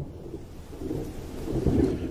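Rolling thunder from an approaching storm, low and rumbling, swelling gradually and growing louder toward the end, heard alone without voices.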